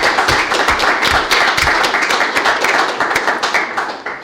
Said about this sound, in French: on peut applaudir Aubryan Damus